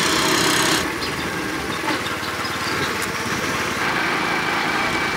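Small motorcycle engine droning steadily while being ridden on roads near Lake Ahémé in Benin, a continuous close buzzing with wind noise and no speech.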